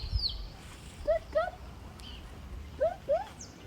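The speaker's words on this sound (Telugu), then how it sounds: "ఎంత బాగుందో కదా పక్షులు చూడ ఎంత బాగా అరుస్తున్నాయో" Several short, bright bird calls ring out in pairs over a soft, steady outdoor background in Eldoret, Kenya, with a couple of higher chirps in between; no talking.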